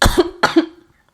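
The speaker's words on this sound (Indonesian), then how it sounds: "Ntar ya, saya tak batuk." Two sharp coughs in quick succession, close and loud, each with a brief voiced tail trailing off.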